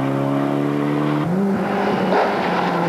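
A Mitsubishi rally car at the 1995 Boucles de Spa rally, its engine holding a steady tone before dropping off and rising again as it accelerates past at close range.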